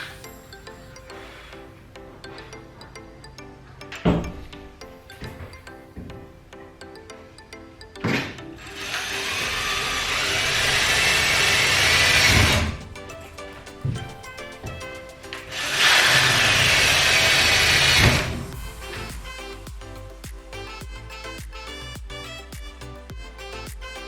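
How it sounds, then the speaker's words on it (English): Two long bursts of a power drill boring pilot holes into bus window frames, each a few seconds of whining grind, separated by handling knocks and clatter nearby. "I'm going to make some pilot holes."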